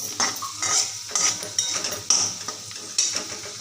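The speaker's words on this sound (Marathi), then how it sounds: "आणि अगदी थोडासा गरम मसाला त्याला थोडंसं परतवून घेते" Dried shrimp chutney sautéed with garam masala, a spatula scraping and clinking against the pan in a steady rhythm of close, repeated strokes over a light sizzle, with no talking.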